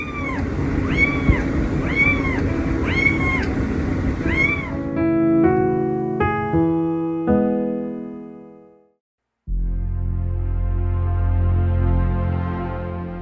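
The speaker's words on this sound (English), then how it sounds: "Kitten meows until his brother joins him for nap time." A kitten meows repeatedly in short rising-falling cries over background music, which continues after the meowing stops.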